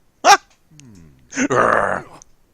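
Growling from a bear character in Kingdom Hearts, a sharp loud burst followed by a low rumbling growl and then a longer rough snarl, close and forceful, heard alone without talk.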